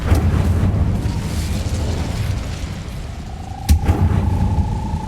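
A fire spell cast in a Harry Potter video game gives a sudden sharp whoosh-burst midway through, over a steady rumbling, crackling game soundscape with a thin sustained tone trailing after it.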